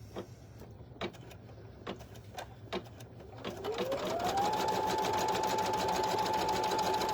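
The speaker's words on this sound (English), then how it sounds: "First step, like anything we've done so far, is going to be our placement stitches for our front vinyl" Embroidery machine sewing placement stitches for front vinyl: a few quiet ticking clicks, then the motor spins up into a steady, close, whirring rattle of rapid stitching that continues to the end.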